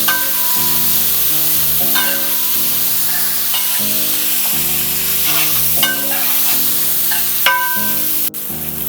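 Chopped tomatoes fry in a pan for a Thrissur-style chicken curry, a steady close sizzle with occasional stirring, partly masked by prominent background music.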